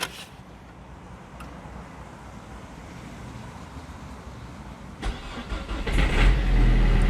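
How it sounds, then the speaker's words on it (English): A Renault Megane II with a freshly replaced battery cranks and its engine catches, a low steady hum building to a louder, rougher start near the end of the clip, with no talking. "Next, just try if the car works. If it starts and doesn't show any errors."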